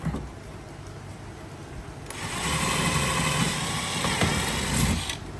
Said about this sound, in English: pre-drill the holes with a 1/8 inch bit